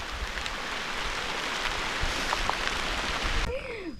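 Rain falling in a forest during mushroom foraging, a soft continuous patter of drops on leaves and surfaces heard close by, a few louder drips standing out before it stops abruptly near the end.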